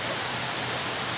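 Heavy rain pours down outdoors in a dense, steady hiss that fills the whole moment without any break or voice.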